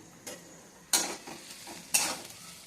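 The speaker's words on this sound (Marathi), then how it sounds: "थोडासा कांदा भाजून घेतला" Onion frying in a pan and being stirred, with a few distinct scraping strokes over a soft background sizzle, close up and fairly quiet.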